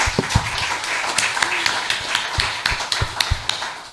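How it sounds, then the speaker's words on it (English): An audience at a crypto meetup clapping hands, a brief patter of scattered claps and taps, fairly close and moderately loud, with faint voices underneath. "That deserves a hand clap too, guys."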